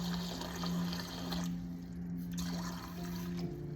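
Cold tap water runs and pours steadily into a bowl for pizza dough, a soft continuous trickle with a faint low hum underneath, close and quiet.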